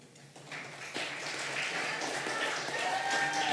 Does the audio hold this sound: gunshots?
no